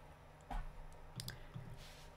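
A few soft mouse clicks on an on-screen button at a computer desk, brief dry taps spaced apart, close and quiet with no talking.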